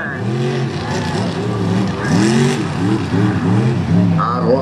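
Monster truck engine at a mud bog show revs in repeated rising and falling surges, loud and close, with an announcer talking over it.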